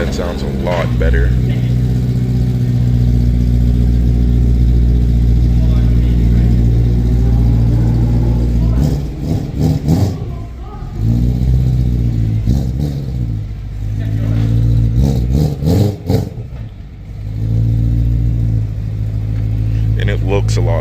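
A BMW E92 M3 with an ACM-modified stock muffler rumbles loud and close, its exhaust swelling through several sharp revs in the middle and later part before settling back to a deep idle.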